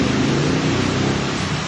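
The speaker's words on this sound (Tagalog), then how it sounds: "Lakas ng ulan ah." Heavy rain pours in a steady, dense roar that fills the whole moment without a break, loud and close, with no voices on top.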